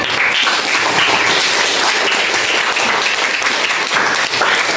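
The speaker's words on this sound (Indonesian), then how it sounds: "sebelum kita berikan aplaus dulu pada kelompok yang sudah presentasi" A classroom full of students applauding the groups that presented in a chemistry lesson, loud dense clapping from many hands, sustained evenly for several seconds before tapering slightly.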